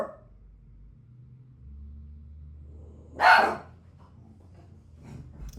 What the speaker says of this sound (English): the mailman came and she thinks she has to bark.